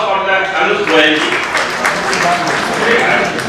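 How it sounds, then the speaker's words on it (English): Seminar audience claps continuously for an introduced speaker, a dense, fairly loud patter of applause with a voice speaking over part of it. "So request everybody to kindly big round of applause for the Anush Goyalji."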